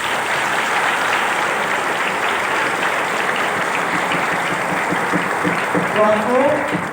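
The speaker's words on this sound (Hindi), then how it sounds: "इसने सेटअप करवाया तो इसके लिए तालियां बनती है।" Seminar audience at a business-building event claps in a dense, sustained burst of applause throughout, steady and loud, with crowd voices and a brief tonal sound near the end.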